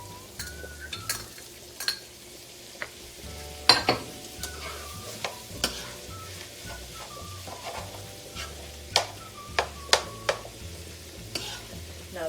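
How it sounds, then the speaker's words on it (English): Tomatoes stirred into a sizzling pasta sauce for lasagna, a steady close frying hiss broken by repeated sharp scrapes and clacks of a utensil against the pan. "Now I'll put in my tomatoes."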